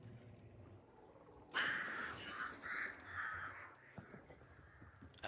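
Crows in the video game Hunt: Showdown suddenly burst into loud, repeated cawing, a close flock calling several times before quieting.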